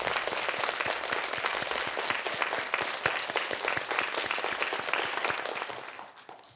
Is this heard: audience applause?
yes